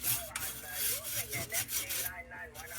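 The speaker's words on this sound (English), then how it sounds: "I'll get some big chunks with this brass brush." A stiff brass brush scrubs back and forth across metal in quick, rasping strokes, close up, cleaning a 1929 Dietz Vesta lantern.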